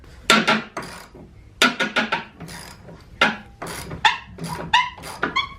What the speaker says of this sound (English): Now I'm gonna try to remove that bolt.